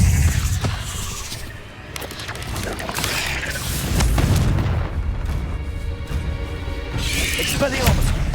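Booming fiery blasts from the Confringo spell in the video game Hogwarts Legacy, a loud rolling explosion followed by further heavy bursts and rumbling debris, with no speech over them.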